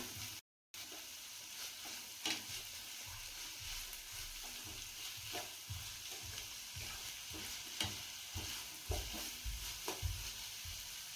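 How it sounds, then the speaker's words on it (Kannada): Vegetables with spring onion frying in a pan for fried rice, a steady broadband sizzle broken by repeated stirring scrapes and clanks at an irregular rhythm, close and fairly loud, with no talking. "ಇದು ಚೆನ್ನಾಗಿ ಫ್ರೈ ಆಗಲಿ. ಎಲ್ಲ ತರಕಾರಿನೂ ಸಾಫ್ಟ್ ಆಗಲಿ."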